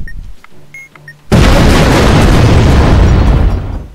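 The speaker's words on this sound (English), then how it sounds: "I heard the explosion." A loud, sudden explosion goes off in the bomb-defusal video game Keep Talking and Nobody Explodes, bursting in after quiet ticks and beeps and then roaring steadily for a few seconds before fading.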